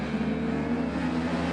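Speedway motorcycles revving hard on the start line just before the flag, a loud sustained engine drone with steady harmonic tones and no voices.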